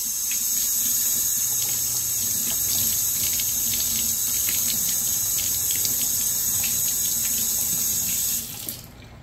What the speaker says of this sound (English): And let's rinse it.